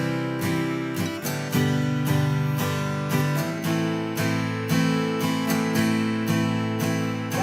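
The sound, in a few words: guitar strumming a fast three-chord progression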